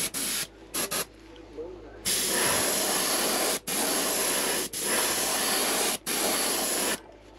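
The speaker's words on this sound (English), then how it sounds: "I'm just going to spray that right along the middle line here" An airbrush spraying Turbo Dork Blue Raspberry color shift paint onto a swimbait, a close, steady hiss that comes in several sustained bursts separated by brief pauses.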